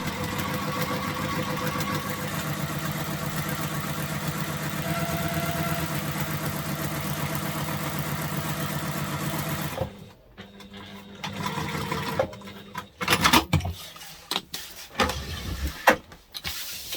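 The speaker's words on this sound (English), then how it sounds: "I'm stitching on top of the lines that I drew a minute ago." A sewing machine stitching a zipper pocket runs in a steady, continuous hum for about ten seconds, then stops, leaving scattered handling clicks and rustles.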